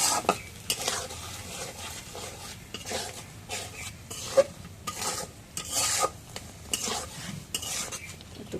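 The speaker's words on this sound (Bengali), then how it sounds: "এখন এই মাংসটা ভাজলাম সেই ভাজা মাংসটা দিয়ে মশলা দিয়ে একটু কষানি করে দিয়েছি" Fried broiler chicken pieces being sautéed with spices and chili powder in a pan, a spatula scraping and clinking in irregular strokes over a low sizzle, close and fairly quiet.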